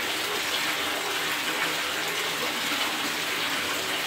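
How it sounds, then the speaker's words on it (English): A tap runs full force into a bathtub, a loud, unbroken rushing gush of water that holds steady throughout with no voices. "if I step out, I can get more water in the tub quicker"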